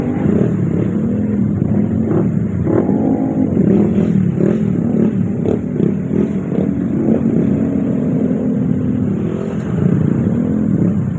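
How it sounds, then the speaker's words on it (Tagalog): Motorcycles revving at a motor show, loud and close, with continuous engine roar and repeated throttle blips rising and falling over several seconds and a light mechanical clatter mixed in. "Motor show ata itong mga to."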